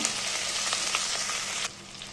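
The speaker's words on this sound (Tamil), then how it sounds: "எண்ணெய் கொஞ்சம் விடுறேன். கடுகு, ஜீரகம், வெந்தயம், வெட்டி வச்சிருக்கிற வெங்காயம்" Mustard seeds, cumin, fenugreek and chopped onion frying in oil, a dense bright sizzle with faint crackles that drops suddenly to a quieter hiss near the end, close and with no talking.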